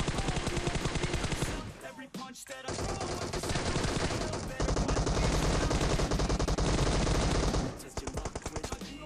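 Rapid automatic gunfire in PUBG Mobile, loud sustained bursts of fast repeated shots with a brief gap near the start and a short drop in intensity toward the end, close and continuous.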